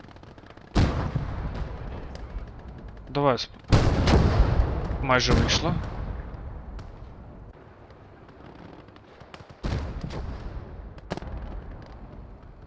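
Heavy booming gunfire and artillery blasts crash repeatedly in the video game Call to Arms: Gates of Hell, with bursts and rumbling impacts, while someone speaks briefly over the noise.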